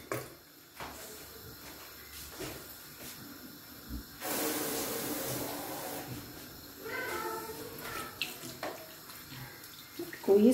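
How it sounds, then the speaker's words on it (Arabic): Water is poured into couscous as a soft hissing stream, starting midway and running a couple of seconds before tapering into light clinks and splashes, quiet and close. "وغادي ندير ليه الماء"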